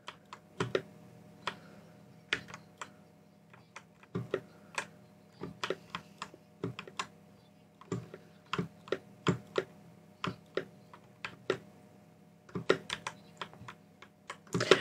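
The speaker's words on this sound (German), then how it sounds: "meine Tastatur ist eventuell ein wenig laut" A loud PC keyboard clacks under quick, uneven bursts of typing. The keystrokes are close and sharp over a low steady hum, with short pauses between runs.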